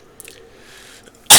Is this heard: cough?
yes